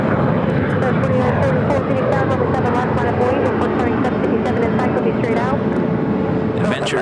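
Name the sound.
United Boeing 757-200 taking off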